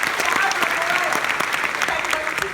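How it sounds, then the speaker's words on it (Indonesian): An audience claps together at a live talk-show stage event in the Netherlands, a dense burst of applause heard close, with a voice speaking over it. "Kita tepuk tangan dulu dong."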